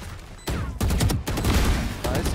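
Gunfire in the competitive shooter Valorant during a tournament match: loud, dense bursts of rapid shots come in several clusters with brief gaps between them, close and dominating the mix.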